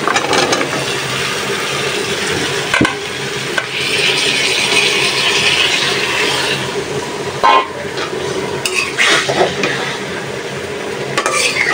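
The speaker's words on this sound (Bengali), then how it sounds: "তো সবজিটা ভালোভাবে কষাই মশলার সাথে" Vegetables stir-fried with spices in a pan, a continuous close sizzle and scrape of stirring running throughout, with a few louder knocks and clatters of the utensil along the way.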